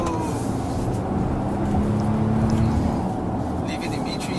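A 2020 facelift Volvo XC90 T8 Inscription Plus revs to 4000 RPM in B3, a steady low engine drone heard from inside the cabin with road noise, held continuously throughout.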